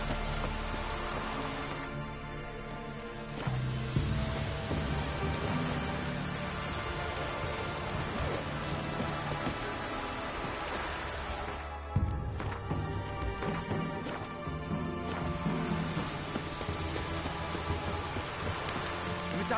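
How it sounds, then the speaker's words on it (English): Steady heavy downpour in The Witcher 3, rain drumming on surfaces continuously throughout, with a couple of brief sharp cracks like thunder, and no talk. "If it don't stop raining, my arse will rot off."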